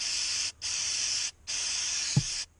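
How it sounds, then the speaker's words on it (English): Mass airflow sensor cleaner sprays from an aerosol can onto the wires of a Chevy Silverado sensor in three steady hissing bursts separated by short gaps, with a brief low knock near the end. "make sure you spray and clean all those wires off there"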